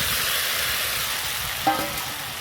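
Potatoes fry in oily spice paste with a steady, bright sizzle, joined by one brief metallic clink from a utensil partway through.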